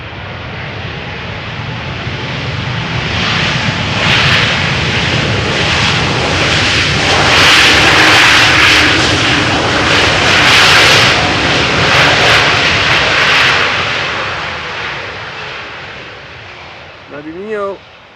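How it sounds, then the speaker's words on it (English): An airliner landing at Amsterdam Schiphol Airport on runway 18R, its engines swelling into a loud, broad roar of reverse thrust that peaks midway and then fades, heard close and alone. "they still can get quite noisy, as you guys can hear when they apply the reverse thrust there"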